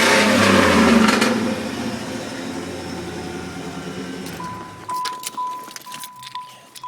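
A 1995 Chevrolet LT1 V8 idles with a misfire, giving a steady, fairly loud running rumble for several seconds before it drops away to quieter mechanical sounds, with a faint whine in the background.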